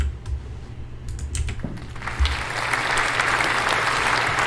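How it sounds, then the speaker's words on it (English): Applause from an audience swells after a couple of seconds into a steady, dense wash of clapping, with some scattered taps and rustling before it builds. "Thank you for that applause,"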